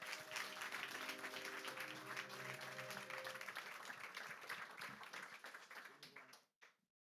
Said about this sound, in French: Donc je vous demande d'applaudir monsieur le ministre Védrine.